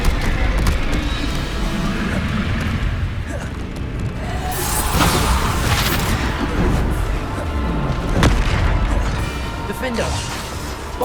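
Bombarda spell explosions in Hogwarts Legacy, repeated booming blasts and whooshing impacts amid continuous loud combat noise, with a voice calling out spell names.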